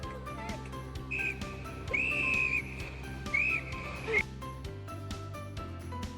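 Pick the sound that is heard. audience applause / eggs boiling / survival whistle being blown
survival whistle being blown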